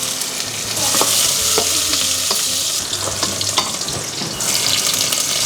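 Dried chillies with mustard seeds and onion tempering in hot oil for a radish kootu, a loud, continuous close sizzle with soft stirring knocks throughout.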